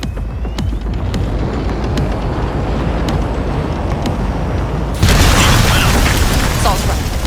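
An explosion blasts open a massive gate in Cyberpunk 2077, a dense rumbling wash that jumps abruptly louder partway through and carries on as a loud roar.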